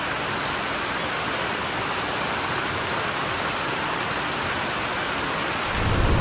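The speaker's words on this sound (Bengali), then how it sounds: "বৃষ্টি নেমে গেছে আবার" Heavy rain roars as a steady, dense wash during a motorbike ride in Vietnam, loud and unbroken, with a low rumble swelling at the very end.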